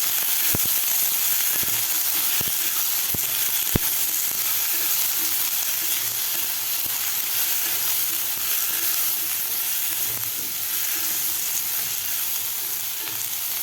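Cut eggplant fries in a pan with a dense, loud, continuous sizzle, punctuated by occasional sharp clicks of a spatula stirring against the metal.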